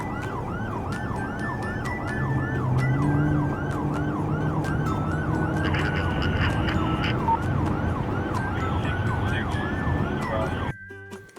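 A black-and-white toy police car sounds a loud, steady electronic siren, its rising and falling wail repeating rapidly with no one speaking, then cutting off abruptly near the end.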